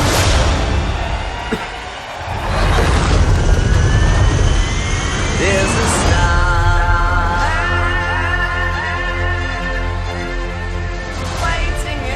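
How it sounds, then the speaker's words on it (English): A rocket lifts off in the Lightyear movie teaser with a loud, continuous engine roar, layered under swelling orchestral music for the whole stretch. "We have liftoff."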